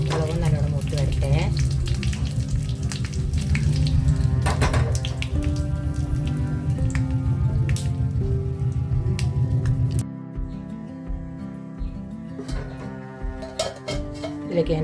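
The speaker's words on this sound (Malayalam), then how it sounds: "മുളകും നല്ലോണം മൂത്ത് വരട്ടെ." Chili peppers and curry leaves frying hard in a pan, a loud dense sizzle crackling for ten seconds before dropping to a quieter, broken spitting near the end, with no talk.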